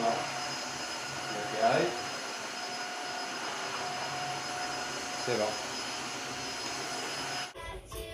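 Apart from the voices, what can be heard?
three-in-one vacuum cleaner, scrubber and mop running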